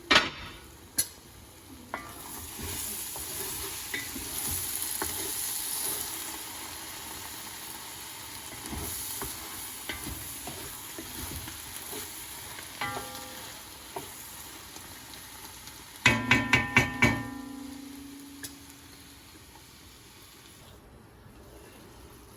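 Onions caramelizing in a pan for French onion soup, with a touch of apple cider vinegar, give a steady faint sizzle and hiss, broken by a few stirring scrapes and a brief clatter of utensil taps near the end.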